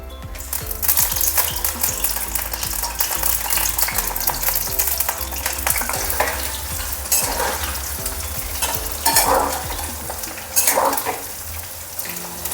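Cauliflower pakoras fry in refined oil in a wok, a steady loud sizzle with scraping and stirring clatter running throughout.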